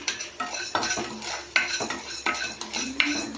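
A spoon scrapes and clinks against a pan in a quick, uneven rhythm as chana dal and coriander seeds fry. A soft, close sizzle sits underneath the strokes.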